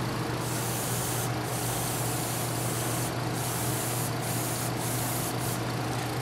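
Steady broadband spray hiss from primer being airbrushed onto a Parkzone P-51 Mustang model plane, with an air compressor, AC and fan running underneath as a constant hum and roar, occasional brief pauses in the spray.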